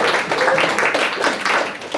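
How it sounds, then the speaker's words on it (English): Audience at a comedy club applauding performers called to the stage, a steady dense wash of clapping filling the whole moment at fairly loud level. "Give them a round of applause."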